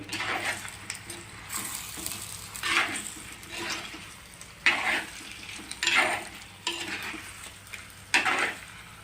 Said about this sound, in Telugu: ఆ మసాలా చేప ముక్కలకి పట్టేటట్టు కలుపుకోవాలి.